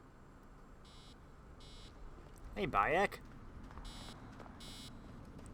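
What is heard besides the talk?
device beeping in Assassin's Creed Origins video game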